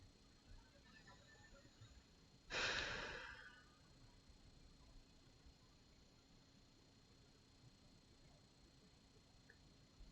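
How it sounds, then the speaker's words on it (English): A single deep, cleansing exhale during a gentle back-focused yoga session rises as a soft, breathy rush, then fades into near silence. "just take some deep and cleansing breaths"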